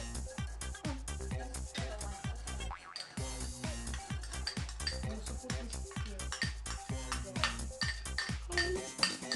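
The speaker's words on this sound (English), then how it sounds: "Using wire whisk." A wire whisk beating carrot cake batter in a bowl, rapid repeated clinking strokes against the bowl in a steady rhythm, close, with a brief pause partway through and occasional voices nearby.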